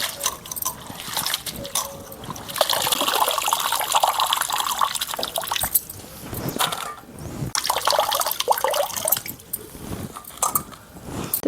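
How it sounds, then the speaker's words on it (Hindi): Radish leaves are washed by hand in water during village cooking, with close splashing, swishing and pouring that comes in bursts and briefly pauses between rinses. "इसको हम 2-3 पानी बढ़िया से धोएंगे"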